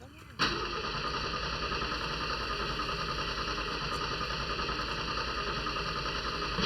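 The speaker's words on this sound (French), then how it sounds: "le tracteur, il a démarré" A tractor engine in a video game cranks and catches, then settles into a steady, droning idle with a constant hum and faint mechanical tones running underneath.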